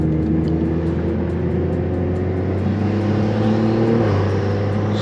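A BMW B58 engine pulls steadily in 4th gear from about 2500 to 4000 RPM during a logging run, a loud, continuous drone and exhaust note close by, with a slight shift in tone near the end.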